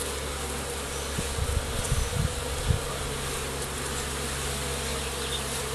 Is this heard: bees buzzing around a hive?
yes